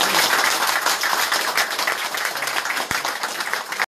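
Outdoor crowd at a Turkish municipal election rally in Erdek claps in sustained, dense applause, loud and steady throughout with a faint voice beneath.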